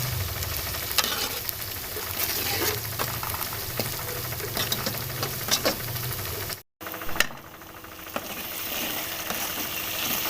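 Tomatoes with green chilli, garlic and ginger paste sizzle and fry in a pan for a fish curry, a steady crackling hiss with occasional stirring knocks and a brief dropout.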